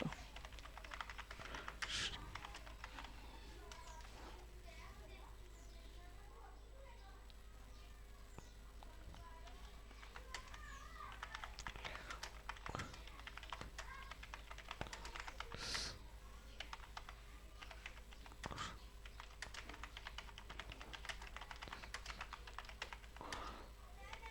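Someone types on a computer keyboard, entering text into ChatGPT, and a quiet stream of light key clicks runs steadily over a soft hum.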